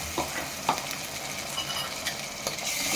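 Onions with ginger garlic paste frying in a pan for a mutton gravy curry, a continuous close sizzle with a few soft spoon stirs and scrapes, no voices.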